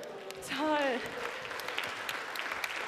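Audience at a stage event applauding a playful human blockchain demonstration, a light spread of clapping under a short voice exclamation that continues faintly afterward.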